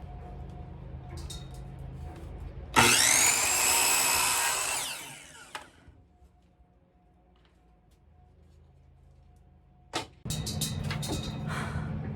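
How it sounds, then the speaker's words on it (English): A miter saw cuts small wooden pieces in half for snowflake ornaments: a loud, close whining blade bite lasting a couple of seconds as it spins down, then quiet, then a second burst near the end. "I'm gonna go ahead and move them over to the miter saw and cut them in half."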